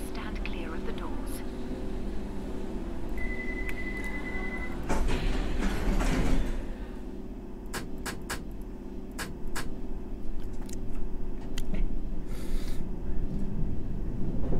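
A London Underground train in World of Subways 3 hums steadily while door chimes and a short beep sound and the doors slide shut, then the train begins to pull away, with a voice talking over it.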